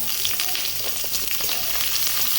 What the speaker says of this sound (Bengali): দেখুন পেঁয়াজ ভালোভাবে ভাজা হয়ে গেছে, এটা আমি এবারে সবজিগুলো ধুয়ে রাখা দিয়ে দেবো।